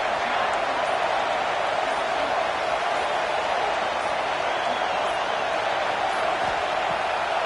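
Stadium crowd in the College Football 26 video game, a broad, steady roar of massed voices filling the space evenly and loudly without breaks or distinct peaks.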